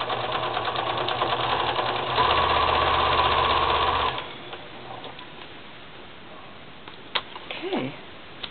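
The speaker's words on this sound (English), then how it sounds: "sew this closed" A sewing machine stitches a book page closed, running in a steady, rapid mechanical whir for about four seconds before stopping, followed by faint handling noises and a brief clatter.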